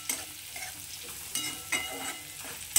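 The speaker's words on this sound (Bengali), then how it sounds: "তো এবার একটু 2 মিনিট এবার এটাকে আরেকটু ভেজে নেব আমি।" Carrots and other vegetables, about to go into a spicy semiya upma, fry and get stirred in a pan. A soft continuous sizzle sits under intermittent close spatula scrapes and knocks.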